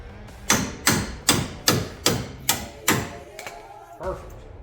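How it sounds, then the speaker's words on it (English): Hammer striking the front suspension parts of a Triumph Spitfire 1500 during re-assembly, seven loud, evenly spaced metallic blows close by, then a couple of lighter knocks and handling sounds. "I'm gonna use my hammer."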